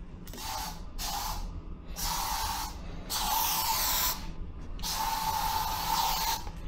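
Lysol disinfectant aerosol spray, a new 510-gram can, sprayed in four hissing bursts of about a second each with short gaps, close and fairly loud over a low background rumble.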